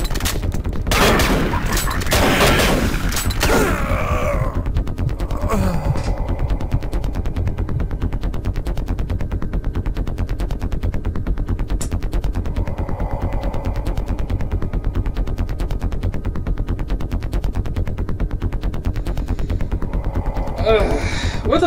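Shotgun fire in Doom 3: a cluster of loud, rapid blasts in the opening seconds, then a low, steady game ambience with a few faint distant effects.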